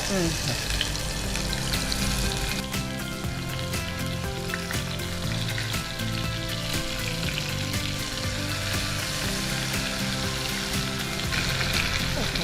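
Brinjal frying in oil with cardamom, clove, garam masala and curry leaves, a dense continuous sizzle close up and loud throughout, with occasional stirring scrapes.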